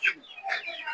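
At a busy chicken market, hens give short, close clucks in a quick burst lasting under a second.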